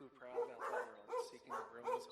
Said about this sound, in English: my dogs start freaking out,